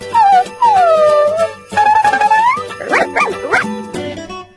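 A remote-control robot dog toy gives electronic barks and whines. The sliding, whimpering yelps are loud and close, with a playful tune running beneath them.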